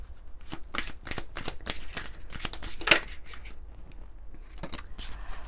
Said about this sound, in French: j'ai envie de prendre un message de l'oracle de Mélisse pour vous qui regardez cette vidéo. une carte conseil